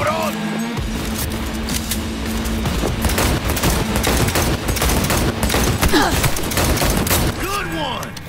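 Sustained automatic gunfire in the video game Cyberpunk 2077, a dense loud fusillade of rapid shots with booms that runs through the whole passage, and voices calling out over it.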